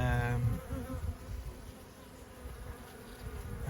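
Honey bees buzzing at an apiary hive during an inspection, a soft continuous droning hum with a few nearer passes, faint and steady throughout without talk.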